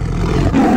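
A tiger roar from a children's jungle animal-sounds game, a short loud growling rumble lasting under a second and heard on its own.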